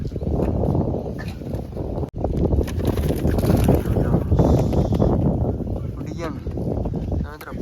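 Strong wind buffets an open rooftop where pigeons are kept, a steady loud roar of gusts battering the microphone almost throughout, with a brief dropout and faint bird calls near the end.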